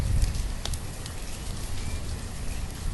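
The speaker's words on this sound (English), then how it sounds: "Obviously this rain isn't helping at all." Rain falling in the Banished city-building game, a steady broadband patter with low rumble and a few brief crackles, continuous and moderately loud with no talk.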